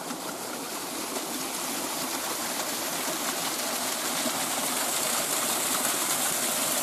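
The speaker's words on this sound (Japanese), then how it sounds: "まあ、針尾の滝。" Hario Falls pours in a continuous broadband rush, steady and fairly close, with no voices over the water.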